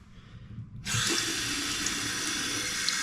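A hotel bathroom sink faucet turns on abruptly and runs steadily, water splashing hard into the basin and onto the countertop, close and loud with no voices.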